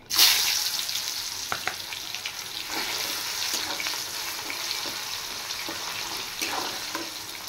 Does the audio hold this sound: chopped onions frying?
yes